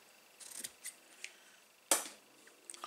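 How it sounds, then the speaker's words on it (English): Floral scissors snip through ribbon in a few quiet, crisp cuts, with one sharper, louder snip near the end, close and otherwise quiet. "I'm just going to snip off with my floral scissors"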